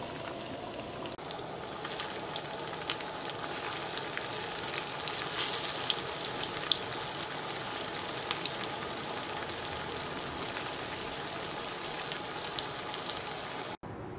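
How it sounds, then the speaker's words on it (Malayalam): Semiya (vermicelli) cutlets frying in hot oil, giving a steady, dense sizzle and crackle that holds even throughout, with no voices. "ഇനി അടുത്ത ട്രിപ്പ് വറുത്തെടുക്കാം."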